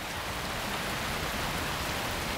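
Rain falls steadily on marshland during the wet season, a dense, even hiss of drops with no breaks and no voices.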